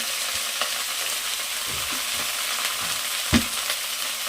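Sambar ingredients with turmeric and salt stirred in a pan, a steady low sizzle with soft scraping strokes and one sharper clink near the end.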